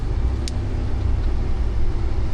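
Heavy machinery working on a deeply snow-covered road in Guria, Georgia: a loud, steady low engine rumble close by, with one brief high squeak partway through.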